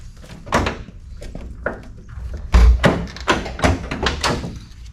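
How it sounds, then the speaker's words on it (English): Door lock on a 1971 Pontiac Firebird being worked in a garage: a run of metallic clicks, clunks and thuds, loud and close, with a heavier thump midway and no talking. "Door lock works."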